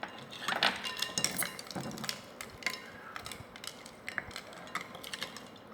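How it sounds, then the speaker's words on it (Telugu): Utensil clinking and scraping inside a pot while an orange juice mixture is stirred, with irregular close metallic taps and rattles at a low, steady level. "ఇప్పుడు ఇవన్నీ బాగా మిక్స్ చేసుకుందాం."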